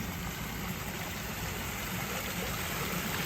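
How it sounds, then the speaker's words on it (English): A fountain statue splashes in a spring-fed Florida wildlife park, giving a steady, continuous wash of falling water with a low rumble beneath it and no voices. "This nice water fountain statue here."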